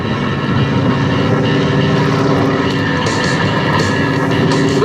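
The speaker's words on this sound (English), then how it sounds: "He will slow the Harvard down to an impossibly slow airspeed by cocking the plane sideways." Harvard stunt plane's radial propeller engine roaring steadily through an aerobatic airshow display, loud and continuous with a dense, droning tone and no talk.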